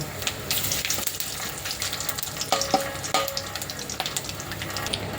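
Dried red chilies, cardamom, cloves, bay leaves and black cumin fry in hot oil with a busy, steady close sizzle, with some stirring and scraping clatter and brief clinks.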